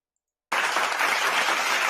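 Audience applause at a live Christmas work-media event, starting abruptly after a moment of silence and continuing as a steady, dense clatter of many hands.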